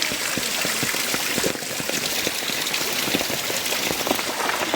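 Heavy rain pours steadily and loudly onto surfaces during flooding in India, a dense continuous hiss with constant drop patter and no talk.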